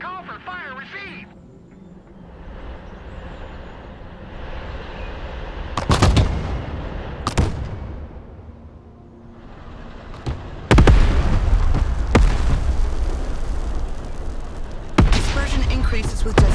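Artillery strikes in the Broken Arrow game thud and boom as a series of sharp explosions, some distant and some heavy and close, spread irregularly across the scene while a voice speaks between them.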